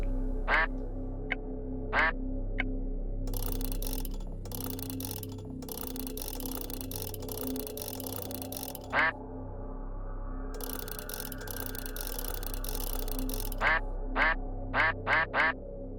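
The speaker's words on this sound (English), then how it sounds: "I love the the duck sounds." Cartoonish duck quacks from the video game Forgotten Hill Disillusion ring out in short separate bursts, several spaced apart then a quick run of four near the end, over a steady low game ambience with bursts of broadband noise in between.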